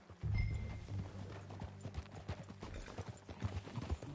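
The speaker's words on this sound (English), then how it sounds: "That a new horse?" Horse hooves clip-clopping in the video game Red Dead Redemption 2, a steady close trot of hoof strikes on the ground, with a brief louder snort or whinny near the start.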